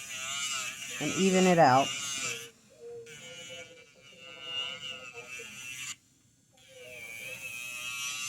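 An electric nail file drill runs at about 1100 RPM while filing bitten nails, a thin steady whine that shifts pitch under load and cuts out briefly, with a voice speaking over it.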